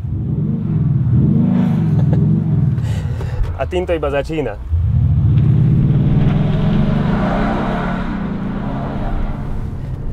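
A Maserati's loud, throaty exhaust in sport mode rumbles continuously with a burst of revving crackle midway, while someone talks over it.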